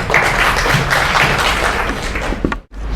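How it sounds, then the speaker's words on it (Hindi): An audience at a school Women's Day celebration claps in steady, dense applause lasting nearly three seconds, then the applause cuts off sharply. "सर के लिए जोरदार तालियां बजाएं।"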